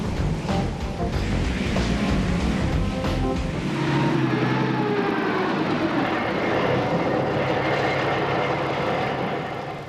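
A London Underground train, a loud rumbling roar with rattling clatter that shifts into a smoother, sustained mechanical drone partway through, steady until a slight fade at the end.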